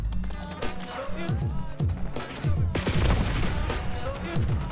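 Video game gunfire, rapid loud bursts of shots in quick succession amid footsteps and battle noise, with someone talking over it.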